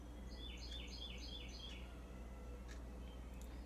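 Small birds chirp and sing outdoors in a rapid run of repeated high notes early on, then a few scattered calls, fairly faint over a steady low background hum.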